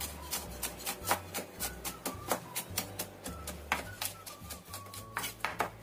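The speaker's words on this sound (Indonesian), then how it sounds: "Aku akan cincang 5 siung bawang putih." Five garlic cloves being minced with a knife on a cutting board: a steady run of quick, close chopping taps, evenly spaced and fairly soft, with no talking.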